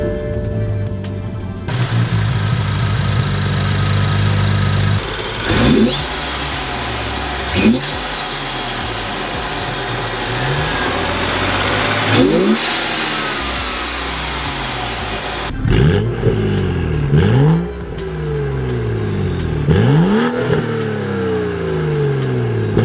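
A 2014 BMW 335i xDrive M-Sport with the N55 single-turbo twin-scroll six-cylinder, JB4 tuned and six-speed manual, repeatedly revving and accelerating through gears, with rising engine tones and pauses at each shift, heard from inside the car.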